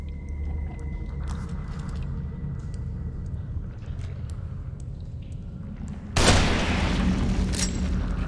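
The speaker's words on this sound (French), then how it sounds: "Balle de sniper." A single loud sniper rifle shot in The Evil Within cracks out near the end, after a stretch of low droning ambience, and leaves a sustained rumbling tail.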